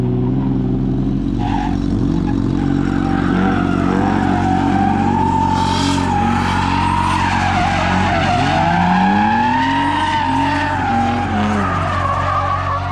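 Loud tire squeal and skidding from a Nissan S13 drifting on a street and spinning out, engine droning and revving throughout as the screech rises and wavers, close and continuous.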